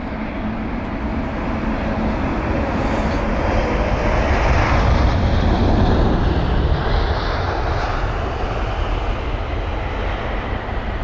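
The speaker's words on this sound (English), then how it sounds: "really nice touchdown there from the arriving aircraft" A jet airliner lands at London Heathrow, its engines roaring loudly and steadily as it passes close by. A brief high whine rises around the middle, and the roar fades only slightly toward the end with no talk.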